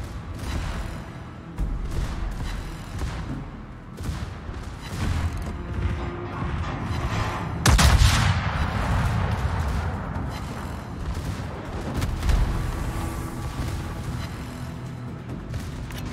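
Heavy ship guns of the Schlieffen booming in a World of Warships 1-vs-1 brawl, with a sharp, loud salvo near the middle over a continuous rumbling, mechanical battle din.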